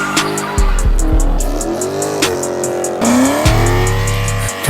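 A loud car leaving a car meet revs hard and accelerates, tires squealing as it drifts, with bursts of engine roar rising and falling across the stretch and no talk.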